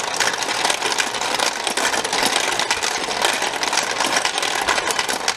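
A small motor runs with a noisy rolling ball mechanism, making a loud, constant, dense rattling whir that holds steady from start to finish with no talking.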